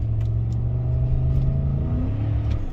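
A 2013 Ford F150 pickup with a 5.0L engine and a stuck-rich oxygen sensor fault running, giving a steady, loud, close low rumble with a slight rise in revs toward the end.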